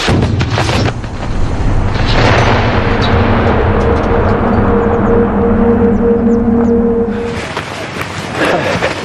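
A shoulder-fired missile launches with a loud, sustained roaring rush that holds for several seconds, then fades and gives way to a closing burst, with no one talking over it.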